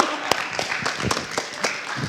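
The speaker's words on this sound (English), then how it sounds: "let's give him a big round of applause" A small audience at a student talk event gives Austin a round of applause, heard as sparse, uneven handclaps with scattered sharp claps and faint murmuring voices beneath.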